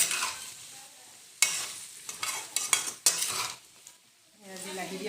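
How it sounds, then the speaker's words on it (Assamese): Tomatoes fry in a pan as a utensil stirs them, with bursts of crackling sizzle, sharp metallic clinks and scrapes, brief pauses, and a louder hissing stretch near the end. "বিলাহী দি অকণমান লৰাই দিছোঁ"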